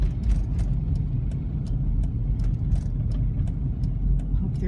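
A Ford F600 dump truck with no brakes being towed downhill: a steady low road rumble and engine drone, with sharp rattles and clicks scattered throughout.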